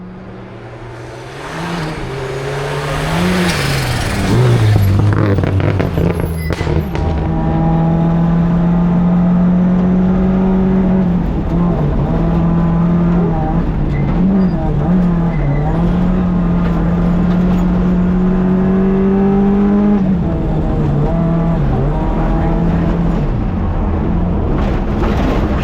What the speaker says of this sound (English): Jeremy Drake and Derek Jackson thrilled the spectators with daring Scandinavian flicks through Detlaw Crossing, showcasing spectacular car control and flai